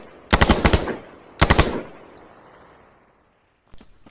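AK-47 assault rifle fire in the video game H1Z1: two loud close bursts of rapid automatic shots, each about half a second, with a fading tail, then a short quieter burst near the end.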